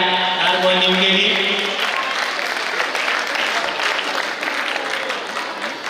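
A crowd at a school Islamic quiz contest breaks into applause as teachers are honoured with flowers; a voice sounds briefly at the start, then dense clapping carries on steadily to the end.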